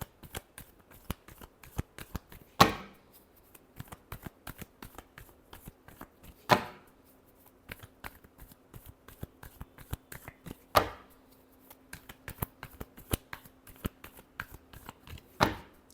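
Tarot cards are shuffled by hand in a quiet room: soft, rapid card taps and slides punctuated by four sharper riffle bursts spaced a few seconds apart, no talking over it.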